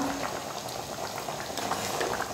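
Lentil ball kuzhambu, a Tamil curry with lentil dumplings, boiling in a pot: a continuous close bubbling and simmering with scattered small pops and hiss, and no one speaking.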